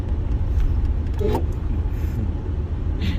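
An old car's engine is revved up hard and accelerates, a steady loud rumble filling the whole stretch close by, with a brief higher whine partway through.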